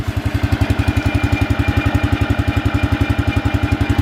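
An old high-wheeled economy tractor fitted with a loader runs at a steady idle, its engine thumping in a fast, even beat, loud and close, with no voices.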